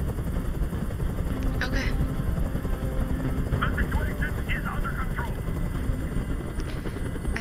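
A helicopter hovers in a Detroit: Become Human game scene, its steady, loud rotor drone filling the whole stretch while a voice speaks over it.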